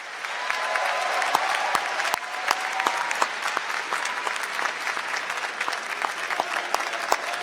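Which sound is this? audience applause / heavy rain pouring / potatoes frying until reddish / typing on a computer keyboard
audience applause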